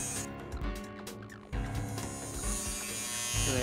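A modified old Andis Outliner hair clipper buzzes steadily and close up, a constant electric drone running throughout.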